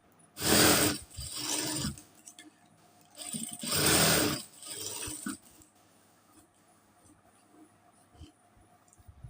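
A sewing machine double-stitches the shoulder seam of a nighty frock in two loud runs of about one to two seconds each, followed by a shorter burst and faint clicks, with no talking.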